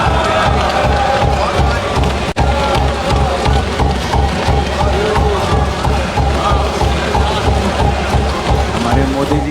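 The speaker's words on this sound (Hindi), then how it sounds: "हमारे मोदी जी की तालियां बजा रहे हैं वहां पे।" A crowd cheers and claps for Modi during a speech played back in a church sermon setting, producing a dense, continuous wash of applause and voices heard through playback at steady loudness.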